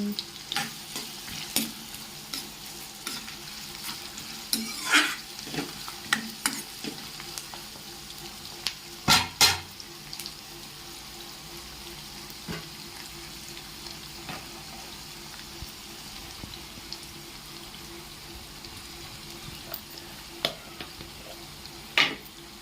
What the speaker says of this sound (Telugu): ఆనియన్స్ ఆయిల్లో వేగేటప్పుడే కొంచెము సాల్ట్ వేసుకున్నాం కాస్త త్వరగా వేగుతాయి